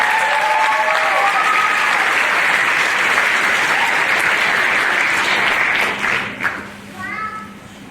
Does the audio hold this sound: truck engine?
no